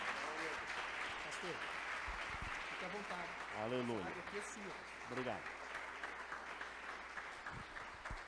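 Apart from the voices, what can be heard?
church congregation applause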